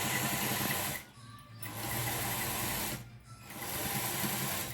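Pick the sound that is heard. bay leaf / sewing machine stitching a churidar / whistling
sewing machine stitching a churidar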